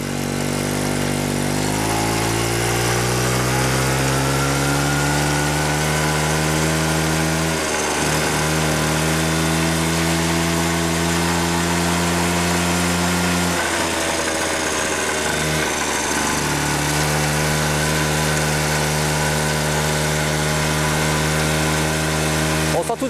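A 1974 Renaissance Cady M3 garden tractor engine runs steadily while the machine is driven, a loud close single-cylinder drone whose pitch dips and rises a few times as the load changes, with no talk over it.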